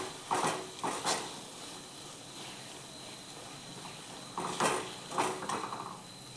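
Beetroot halwa with cardamom powder being stirred in a pan, a spoon scraping and clinking against the metal in two short bursts with a quiet pause between them.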